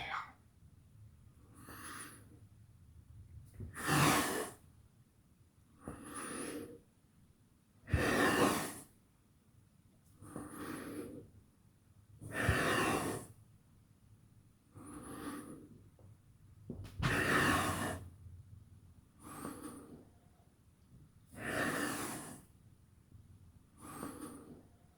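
Heavy rhythmic breathing during a 15-minute posture and shoulder exercise session, about a dozen long audible exhales and breaths at steady intervals, close and soft with no talking.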